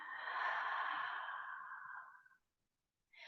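A long, deep exhale during a yoga breathing practice, a steady breathy rush fading over about two seconds, then a brief pause before the next breath begins, close and alone.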